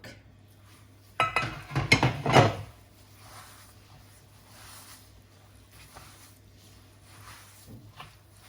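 Oil and coconut go into a bowl for coconut semolina cookie dough, making a short burst of clinks and scrapes against the bowl, then quiet kitchen background with faint occasional knocks.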